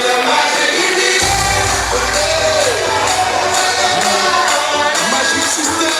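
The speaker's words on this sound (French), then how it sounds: "Est-ce qu'on peut applaudir très fort pour le coach Marcel?" A crowd at a car handover ceremony in Cameroon applauds and cheers for coach Marcel Pérez, loud continuous clapping and crowd noise throughout, with some scattered thumps and a few voices mixed in.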